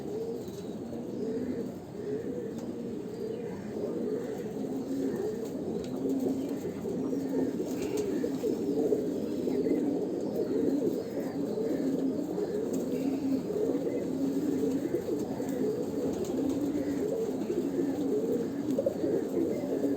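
Young Andhra pigeons under six months old cooing steadily in a loft, soft overlapping low coos that continue without pause for the whole stretch.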